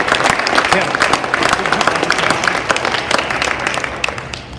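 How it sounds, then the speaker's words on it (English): Crowd applause for honorees at a Boys & Girls Clubs awards event, a mix of clapping and cheering voices with a lively, uneven texture at fairly close range. "let's give all of our honorees a round of applause"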